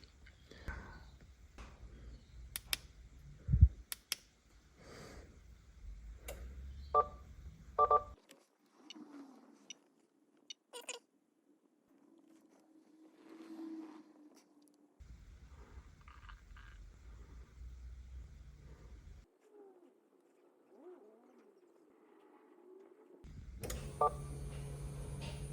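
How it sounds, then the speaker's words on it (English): Short electronic beeps from pressing buttons on a device, irregular single tones spread out with long quiet gaps and some faint handling noise between. "I had to put the phone down while I pressed some buttons"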